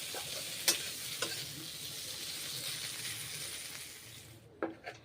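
Bitter gourd slices fry in a pan with a steady, moderate sizzle and several sharp clinks of a utensil against the pan, the hiss briefly dropping out near the end.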